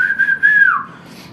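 Crowd control staff at a Tamil Nadu election gathering blow a mouth whistle: one loud, shrill, steady blast that dips in pitch before cutting off.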